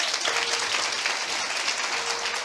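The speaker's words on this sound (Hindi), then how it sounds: "ताली बजाएंगे" An audience applauding steadily, a dense continuous wash of clapping from many hands that holds at even loudness throughout, with no voices over it.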